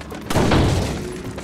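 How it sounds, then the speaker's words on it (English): A single booming explosion in Resident Evil 4 bursts suddenly and loud, then decays into a rumbling tail over about a second. "Plus the resulting explosion should take out some of the targets."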